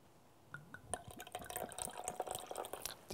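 Vinegar poured from a small vessel for a homemade salad dressing makes a soft trickling, dripping patter, close and fairly quiet, ending with a slightly louder splash.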